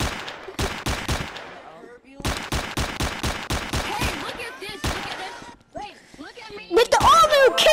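Gunfire in the video game Rec Room: rapid bursts of loud, sharp automatic shots in tight clusters, pausing briefly and resuming, with a voice speaking near the end.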